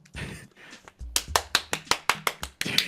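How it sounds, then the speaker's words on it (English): A person claps their hands softly, a steady run of about eight close, even claps after a brief murmur of sound. "Audio listeners, he's just clapping right now."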